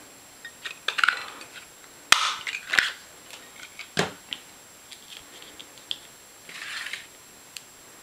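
A 1-inch circle paper punch cutting paper makes a few sharp, faint clicks and snaps, scattered singly over several seconds in a quiet room.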